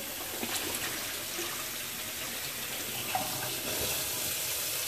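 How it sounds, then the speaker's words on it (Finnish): Cold tap water runs over freshly boiled eggs in a home kitchen, a steady, soft hiss and splash at low volume throughout, with no talking. "Kylmää vettä."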